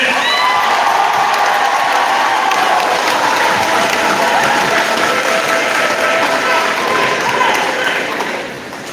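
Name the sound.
assembly crowd applauding and cheering for Hall of Famer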